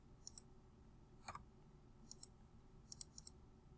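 Sharp computer mouse clicks while saving an entry, several quick light ticks in pairs and small clusters, close and crisp over a quiet background with no talking.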